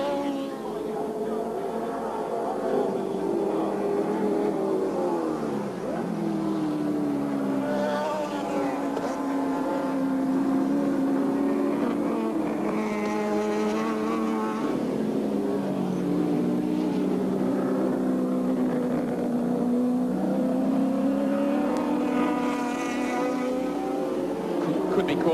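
Touring cars race around the wet Lakeside circuit in the 1983 Australian Touring Car Championship, engines droning and rising and falling in pitch as cars pass, heard under continuous commentary.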